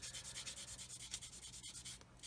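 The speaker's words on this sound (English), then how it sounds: "Then with this soft sanding sponge, I'm just going to go over this" A soft sanding sponge rubs steadily over a part of an Airfix 1/32 Humber scale model, making a close, quiet scratchy rasp in regular back-and-forth strokes, with a brief pause near the end.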